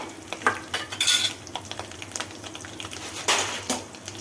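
Spices are tempered over a lowered gas flame in the oil left from frying baby potatoes, with a soft sizzle under quick, sharp clinks and scrapes of a spoon stirring in the pan.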